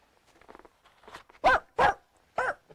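Dogs bark in three loud, close barks in the second half, after softer scattered yelps and noises at the start, in an indoor setting with no talk over them.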